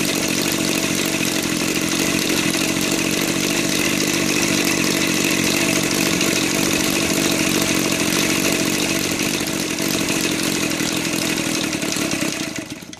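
A gasoline-converted EVO 7-77 model airplane engine with CDI ignition idles steadily with its propeller fitted, a continuous loud buzzing drone that holds an even, slow rhythm throughout before easing off slightly at the very end, with no talking.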